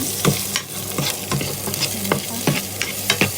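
Garlic and onion frying in a pan for a Thai pork and pineapple soup, a steady close sizzle broken by repeated sharp scrapes and clinks of stirring.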